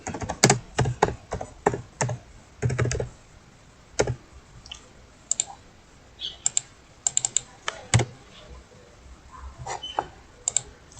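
Someone types on a computer keyboard in an admin panel, giving irregular bursts of crisp key clicks with pauses between them, close and fairly quiet, with no voices over it.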